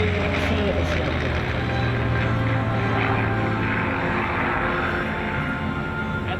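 A Spitfire flying in a Battle of Britain display at the 2014 Sunderland Airshow gives a steady, loud, rumbling engine drone that fills the whole stretch, with a voice faintly audible over it.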